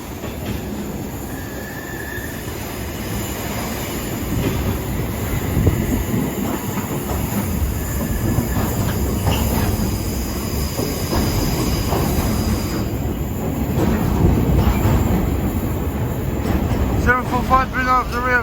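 A train rumbles past on a railway line in south London, a long, loud, steady roar with rattling wheels and a squeal near the end. A voice can be heard faintly under it.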